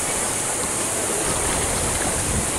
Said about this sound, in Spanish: ahorita vamos a ver la cascada con un nivel de agua bastante interesante